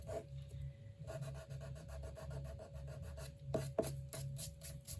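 A sand eraser scrubbing ink off a paper card, with short repeated rubbing strokes close by over a low steady hum and no speech.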